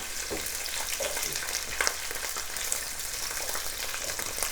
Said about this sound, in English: We're not really frying it, we just basically sauteing them.